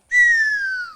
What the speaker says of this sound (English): It's my whistle. This is my sound effects for the stories.